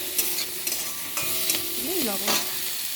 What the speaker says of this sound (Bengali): একটু সামান্য হলুদ গুঁড়ো দেবো, আর একটু নেড়ে